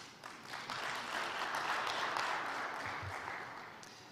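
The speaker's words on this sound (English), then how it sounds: "a special round of applause to NSSF." Faint, distant round of applause from an audience at a startup pitch day, a soft wash of clapping that builds briefly and tapers away.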